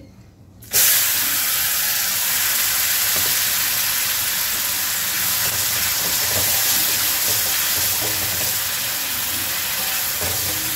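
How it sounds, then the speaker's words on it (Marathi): Tomatoes tipped into a pan of fried spices for okra curry, setting off an abrupt, loud sizzle that settles into a steady, close hiss of sautéing. "आता यामध्ये आपण आपले हे मसाले परतले आहे हे टोमॅटो टाकून द्यायचे"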